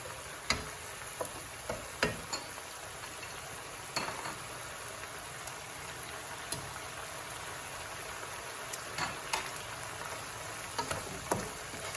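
Eggs with chili are stir-fried in a pan, with a steady close sizzle broken by frequent sharp scrapes and clacks of a spatula. No one speaks.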